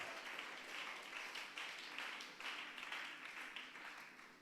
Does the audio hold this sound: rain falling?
no